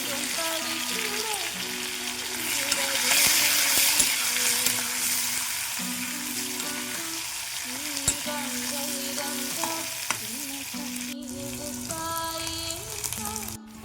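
Onion, green chilies and curry leaves fry in oil with tempering spices in a pan, giving a loud, steady sizzle with occasional stirring scrapes and a faint musical background throughout.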